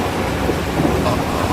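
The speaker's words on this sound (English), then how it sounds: "Here comes the rain." Rain and a thunderstorm roar together, a loud dense wash of downpour with low rumbling thunder, steady and close with no talking.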